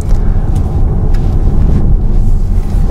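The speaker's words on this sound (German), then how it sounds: "schönes Abrollgeräusch, nicht so große Windgeräusche" Tyre roll and wind rush from a VW ID. Buzz fitted with winter tyres while driving, a steady, loud, broadband rumble with no voices.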